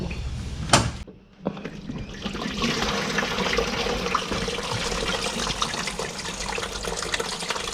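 Radiator coolant pours and splashes steadily into a bucket, a continuous close-up gush of liquid after a couple of brief knocks at the start.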